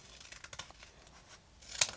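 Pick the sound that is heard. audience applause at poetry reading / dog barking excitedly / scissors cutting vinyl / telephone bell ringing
scissors cutting vinyl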